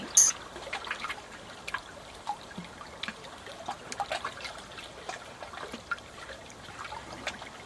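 A flowing stream trickles and babbles steadily at moderate distance, a soft continuous wash of water with small bright splashes throughout.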